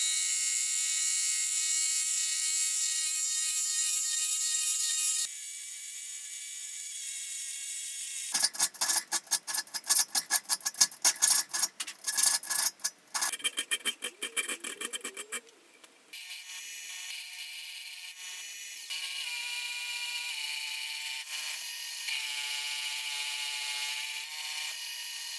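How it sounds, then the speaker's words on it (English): Cutting the flutes into a mild steel thread-cutting tool for a fly press build, a steady machine drone giving way to a burst of rapid rattling, chattering cuts in the middle before the steady running resumes, with no talking. "I then had to machine in the flutes so they could cut the thread profile"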